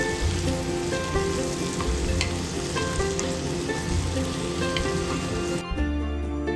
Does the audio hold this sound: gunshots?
no